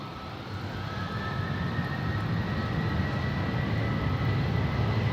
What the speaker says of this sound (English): this is KLM taking off to Bucharest, flight 1375